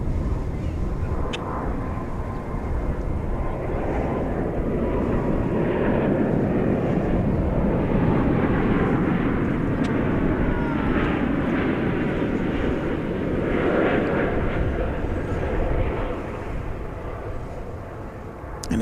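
An airliner in oneworld livery passes at DFW Airport, a broad steady engine roar holding loud for nearly the whole stretch before easing slightly at the end.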